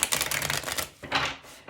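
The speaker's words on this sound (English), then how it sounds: "I'll give the deck a couple more shuffles here" A tarot card deck being shuffled by hand at close range, a steady run of crisp papery riffles and flutters with a brief pause before a final burst, no voices over it.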